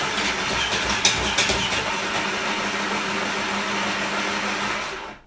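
An electric chopper runs steadily for about five seconds while dicing halved potatoes into cubes, a loud continuous motor whir with a brief clatter near the start and an abrupt stop at the end.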